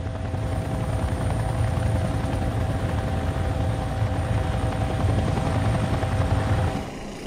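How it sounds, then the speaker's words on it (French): Military helicopter in flight, a steady loud rotor thrum with a constant turbine whine that holds for several seconds before easing slightly at the end, with no talk. "nos hélicoptères Chinook sont escortés par les hélicoptères d'attaque ou de reconnaissance français"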